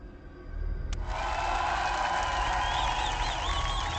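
A game-show crowd in AI: The Somnium Files cheers and applauds loudly. The sustained roar rises suddenly and holds steady, with whistles cutting through.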